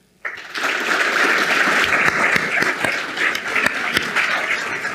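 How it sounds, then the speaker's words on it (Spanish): An audience at an agribusiness summit panel applauds steadily for several seconds, a dense wash of clapping that starts abruptly and holds at an even level. "los despedimos con un aplauso"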